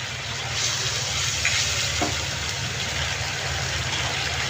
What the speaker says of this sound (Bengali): এখন দিয়ে দিচ্ছি একটা পেঁয়াজের পেস্ট